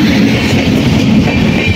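A train pulling into Pathankot railway station, a loud close continuous rumble of wheels and carriages rolling past with a broad rushing roar and no voices.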